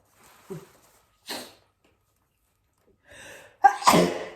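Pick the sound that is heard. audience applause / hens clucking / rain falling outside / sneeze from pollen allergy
sneeze from pollen allergy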